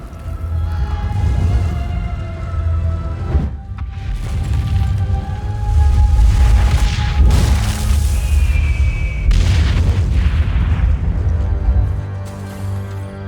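Deep, booming explosions in the video game Assassin's Creed: Brotherhood, several heavy blasts rolling out over game music and ambience, loud and reverberant.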